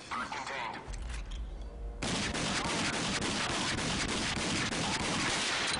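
Gunfire in the video game Rage, dense and continuous from midway on, a loud sustained burst of shots with a person talking over it.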